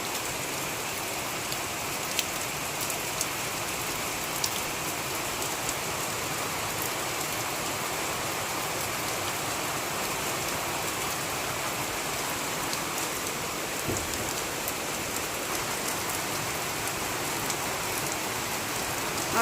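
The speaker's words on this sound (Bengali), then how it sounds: "আজকে সকাল থেকেই প্রচুর বৃষ্টি" Heavy morning rain pours down steadily, a dense, even wash of drops falling on surfaces without pause, loud and continuous with no voices present.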